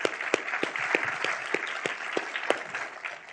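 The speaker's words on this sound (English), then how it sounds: "Everybody, join me in a round of applause for Matt." Audience applause for a guest lecturer at the B.C. Lee Lecture, a steady wash of many hands clapping with a few sharp, distinct claps standing out near the front, sustained and fairly even throughout.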